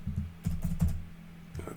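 Computer keys are pressed in a terminal text editor: a handful of close, crisp clicks and taps in short bursts, with a low steady hum underneath and no talking.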